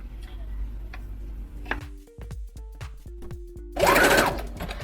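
A sewing machine runs zigzag stitches along a braided wig, giving a quick series of sharp mechanical clacks, then a louder burst of whirring near the end, with no talking.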